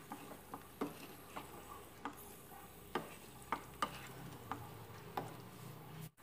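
A spoon stirs aloo gobi kurma masala in a pan, giving soft irregular taps and scrapes against the metal every half second or so over a faint background simmer.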